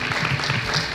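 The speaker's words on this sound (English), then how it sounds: "Big applause." Audience applause at a televised reality show finale, a brief burst of many hands clapping in a hall, fairly loud and continuous, with no speech on top.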